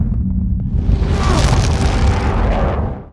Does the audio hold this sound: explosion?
yes